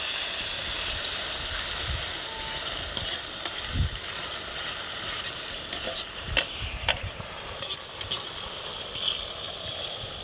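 Grated potato lachha namkeen deep frying in hot oil, a steady bubbling sizzle with scattered crackles and pops and occasional stirring sounds, close and fairly loud, with no talking.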